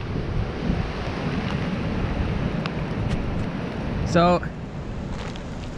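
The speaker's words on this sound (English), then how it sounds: "I really wish you guys could see this, but there's some pretty serious wind." Strong wind roars during a winter storm in the Northern Ontario woods, a constant heavy rush buffeting the microphone from start to finish, with one brief spoken word partway through.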